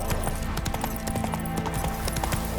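Horse hooves clip-clop at a brisk, rhythmic gallop in The Witcher 3 on PS5, close and steady throughout, with a brief vocal sound near the start.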